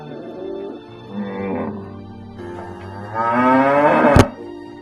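A cow on a roadside moos repeatedly, a long, loud lowing call that builds toward the end and stops in a sharp burst, with faint background noise throughout.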